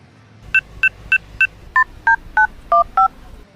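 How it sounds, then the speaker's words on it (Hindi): Phone number being dialed on a telephone keypad: nine distinct touch-tone beeps in quick, fairly even succession, clear and close, over a faint background hum. "लाओ फ़ोन करी, देखी मिलाई।"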